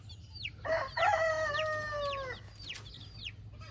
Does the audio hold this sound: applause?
no